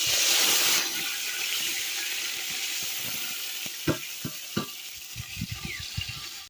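Onion and tomato fry in ghee in a village mud-house kitchen: a loud hissing sizzle opens, then settles into a steady crackle with scattered stirring clinks and scrapes, no talking.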